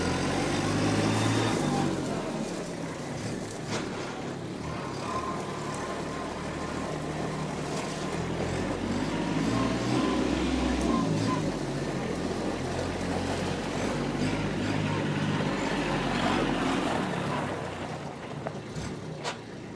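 A 2020 Kubota B2401D compact tractor engine runs in third gear with a steady, loud, continuous drone that holds for the whole stretch and eases slightly at the end, with no voices.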